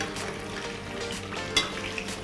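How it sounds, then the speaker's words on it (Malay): Steady crackling sizzle of tofu frying in hot oil for Bruneian stuffed tofu, continuous and close, with a couple of sharper pops near the end. "Tani gunakan banyak pasal Tani akan menggorengkan tahu"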